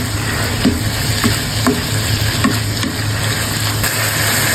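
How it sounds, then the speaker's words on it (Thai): Spicy frog curry stir-fried in a pan, a steady loud sizzle with periodic scraping stirs of the spatula, close and continuous with no talk. "ผัดให้เข้ากัน"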